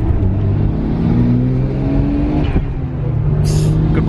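A Nissan R32 GT-R Skyline accelerates hard under turbo boost, its engine droning loud and steady with rising harmonics throughout, a brief whoosh near the end.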